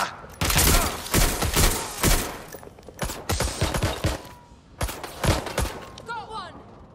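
Bursts of automatic gunfire and rapid shots in a Watch Dogs Legion firefight, loud and close with dense volleys, short pauses between them, and voices shouting in the mix.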